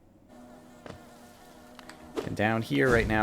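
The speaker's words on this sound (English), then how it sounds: "all I hear is the bees." Bees buzz in a Hollow Knight cave area near Isma's Grove, a steady faint drone through the first seconds before a voice starts talking over it.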